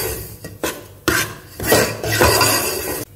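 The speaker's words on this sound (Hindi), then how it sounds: "अब हम ये एक कप सूजी डाल देंगे, अच्छी तरह से मिक्स करते रहेंगे, इसको अच्छी तरह से भूनेंगे।" Semolina roasted in a pan for suji halwa, stirred with a spoon: loud, close scraping sweeps against the pan in uneven bursts, the last stretch a long continuous grind, with no voices.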